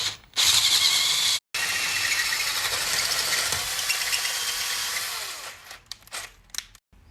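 A hammer drill grinds loudly into a concrete wall, running continuously for several seconds with one brief pause, then sputtering and stopping.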